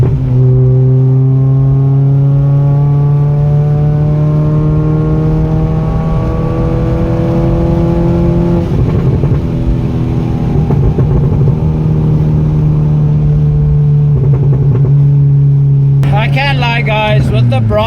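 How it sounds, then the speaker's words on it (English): A Ford Figo with a loud modified free-flow exhaust drones and rumbles steadily, its pitch rising and falling as the engine revs, with a sharper burst of noise near the end. "I'm actually gonna quite miss the sound of the Ford with the current exhaust."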